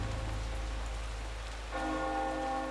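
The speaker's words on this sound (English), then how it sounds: "Yeah, ring the bell." A bell rings in the horror video game Eternal Darkness. It is a sustained, resonant chime that swells in partway through, laid over a steady rain-like ambient wash with no talking.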